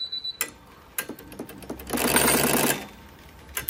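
A Tajima embroidery machine stitches with a fast, steady mechanical patter that swells for about a second in the middle, framed by scattered clicks and taps before and after.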